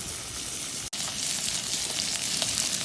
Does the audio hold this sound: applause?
no